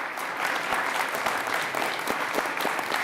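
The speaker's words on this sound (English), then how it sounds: "give them a big round of applause" A steady round of applause from a large crowd, many hands clapping continuously at a loud, even level throughout.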